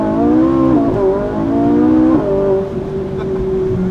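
A 2010 Ferrari 458 engine revs hard and close, its pitch climbing, dipping and rising again in a loud, continuous howl.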